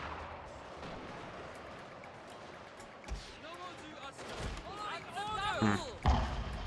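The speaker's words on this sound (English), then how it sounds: "An explosion has taken place." Distant explosions and cannon-like blasts hit a castle wall during a Total War: Fall of the Samurai siege battle, sharp bursts rising over a busy battle din with shouting.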